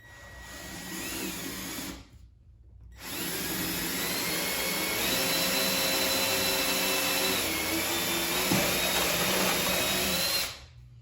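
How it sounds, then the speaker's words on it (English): Loud, close power drill with a step bit boring through metal on a Shovelhead springer motorcycle in two bursts, a short one then a long steady run with whining pitch shifts, no talking. "we'll go ahead and drill this out"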